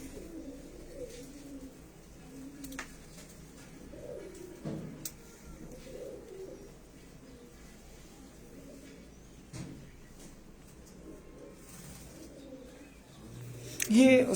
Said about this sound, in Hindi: मतलब ये कसूरी कबूतर ही है ना